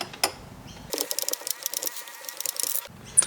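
Socket wrench with a long socket loosening a bolt on a D22 Navara EGR block: a single quick run of close, fast ratcheting clicks lasting about two seconds, framed by a few light taps.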